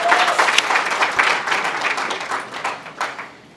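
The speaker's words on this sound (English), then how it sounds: "Please give yourselves a round of applause." A crowd applauds itself at the GenderCool Project champion recognition event, many hands clapping in a lively burst that gradually thins and fades over a few seconds.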